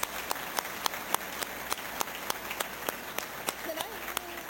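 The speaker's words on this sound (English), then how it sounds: "We can give those a round of applause." A crowd at a school award ceremony applauds steadily, with a wash of clapping and a few louder claps landing in an even rhythm.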